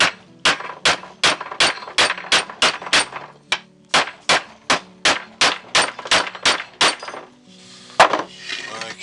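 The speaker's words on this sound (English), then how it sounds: "So I'm going to hammer these back in." Nails are hammered back into wood in a run of about twenty sharp, ringing strikes at a steady quick rhythm, loud and close, with a brief pause near the end before a final knock and some shuffling.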